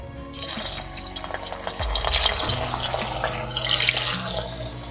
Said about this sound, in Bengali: এবার ওই তেলের মধ্যে আমি এখন মাছের মাথাটা দিয়ে ভালো করে ভেজে নেবো